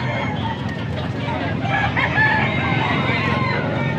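Roosters crow at a gamecock sale in Pampanga, several calls rising over crowd murmur and nearby voices, with clucking fowl in the background.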